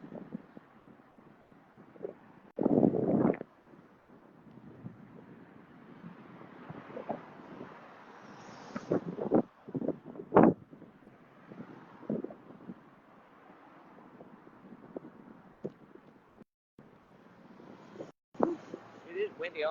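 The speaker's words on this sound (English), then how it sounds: "It is windy." Wind buffeting a microphone on a seaside boardwalk between Playa del Inglés and San Agustín, gusty rumbling bursts rising and falling, with a person speaking intermittently underneath.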